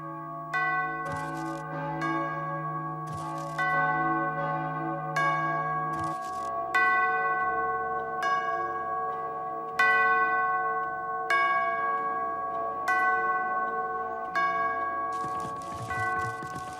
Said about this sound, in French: c'est l'horloge du père Gerbert.